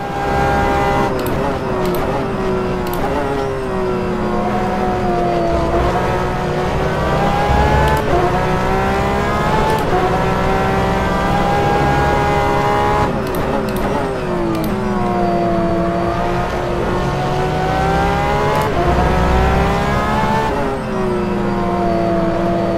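Porsche 911 RSR GTE race car engine in the rFactor 2 racing game at Portimao, revving loudly and continuously, climbing and dropping through gear changes with a rising and falling whine.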